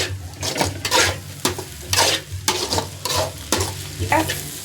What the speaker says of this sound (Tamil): ஒரு 2 நிமிஷம் ஹை ஃப்ளேமில் வச்சு கிண்டி விட்டுக்கலாம்